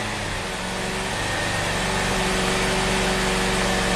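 A Nissan Sentra that barely runs idles steadily at close range, a continuous loud engine drone with a faint fan-like whir, no voices over it.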